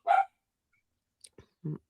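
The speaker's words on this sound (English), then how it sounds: "Sorry, y'all can hear my dog barking." A dog barks in short bursts, one loud yelping bark up front, then a pause and a couple of softer clipped barks near the end, close by and with no talk over it.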